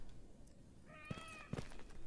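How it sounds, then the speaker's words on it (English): Cats meow in the video game Stalker GAMMA: two or three short, close, clear meows with no talk over them, the last pair louder. "Oh, cats."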